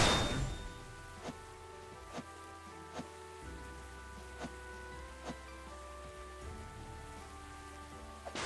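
Rain falls in the video game Tevi as a faint, steady hiss, with soft, evenly spaced thuds repeating about once a second. No one talks.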